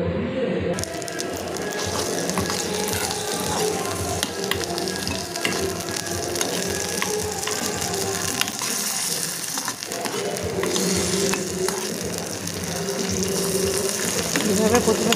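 Tomatoes frying with a pinch of salt in a pan for a chutney, a steady soft sizzle running throughout with occasional scraping and clinks, with faint talking over it.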